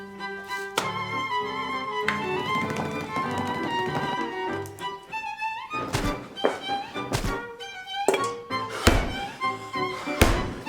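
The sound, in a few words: pummelling Tudor biscuit bread dough with a length of wood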